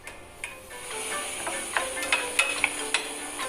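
A spoon stirs ground spices (red pepper, ginger, black pepper, cumin) in a hot pan for a Moroccan meat tagine: close scraping strokes and light clicks over a steady soft sizzle.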